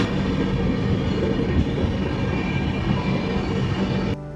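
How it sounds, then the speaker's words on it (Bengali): A passenger train runs near Ghaziabad on the Howrah to Delhi route, giving a loud, steady rumble and rattle close by that continues throughout with no talking. "কিন্তু ট্রেন গাজিয়াবাদের এখানে, আর বাইরের সিনটা ঠিক এরকম।"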